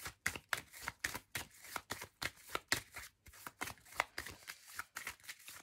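Tarot cards being shuffled by hand, a rapid run of crisp papery riffles and flicks about twice a second, close and fairly quiet, with no voice over them.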